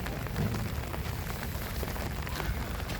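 Steady rain pattering on a surface at Dongmak Beach on Ganghwa Island, a continuous even hiss with scattered drops, moderately quiet and unbroken throughout.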